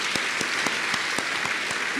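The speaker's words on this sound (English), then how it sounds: "Let us give the Vice Chancellor another hand of applause." Audience applause at a university academic opening ceremony for the vice chancellor, steady dense clapping filling the hall with a few sharper individual claps standing out, sustained at an even level throughout.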